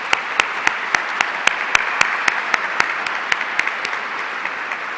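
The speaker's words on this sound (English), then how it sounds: "let's give them a round of applause" Audience applause honoring educators at an aerospace awards gala, steady clapping with a few sharp, distinct claps standing out rhythmically above the crowd wash throughout.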